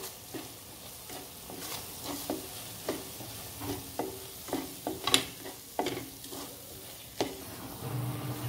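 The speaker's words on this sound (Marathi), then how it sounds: "आपला मसाला तेल सुटेपर्यंत परतून घ्यायचा आहे आपल्याला" Masala with cumin and coriander powder sautéed in oil in a pan for rajma masala, a low sizzle broken by repeated scraping and tapping spatula strokes at an uneven rhythm, fairly close and quiet.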